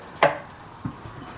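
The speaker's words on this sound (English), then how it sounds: "So I'm just gonna cut about 1/3 of the onion into my blender." Knife cutting an onion for a sauce, one sharp chop followed by a softer second cut, close and clear in a quiet kitchen.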